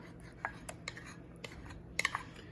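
A utensil clinks and scrapes against a slow cooker pot while steak sauce is stirred into an onion mushroom gravy, with soft, faint irregular taps and a brief cluster of sharper clinks near the end.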